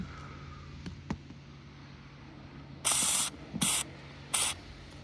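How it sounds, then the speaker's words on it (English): Rust protection spray hisses onto a rusty car bolt in three short bursts, the first longest, after a couple of faint clicks over a quiet background. "when you spray it on rust, it sort of like bubbles and soaks into the rust and helps protect"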